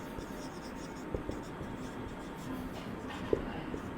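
Marker or chalk strokes on a classroom board during a physics lesson, a faint scratchy texture with a few small taps, low in level under a steady room hum, with no one speaking.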